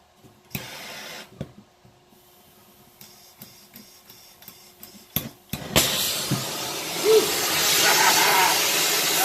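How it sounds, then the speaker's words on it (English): Scattered metal taps and clanks give way to a loud, steady torch hiss as metal is heated while camp tables are built, the rushing flame noise holding close and continuous to the end. "We need to heat our metal up just a little bit more."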